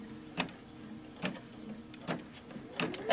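An embroidery machine stitching a mug rug in the hoop gives four evenly spaced soft thumping clicks over a low steady hum, close and quiet.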